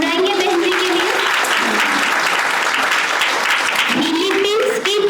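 Sustained applause from an audience honoring a woman at a spiritual gathering in Gwalior, a steady wash of many hands clapping throughout, with voices and a few shouts rising over it.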